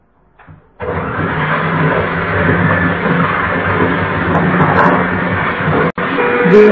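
Black Forest cake batter with milk and oil being beaten by an electric hand mixer, a loud steady motor whir that starts abruptly, cuts out briefly near the end, then resumes.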